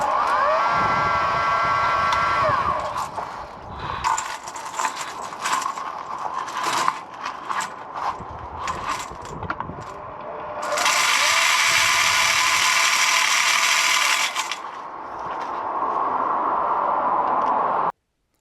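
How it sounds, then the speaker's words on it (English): A Picote drain cleaning machine spinning its chains inside a backed-up 4-inch sewage pipe to rip out scale, giving a loud continuous mechanical whirring and ratcheting clatter that rises into a harsh, intense grinding burst partway through. "So I think this is time for our new picote machine."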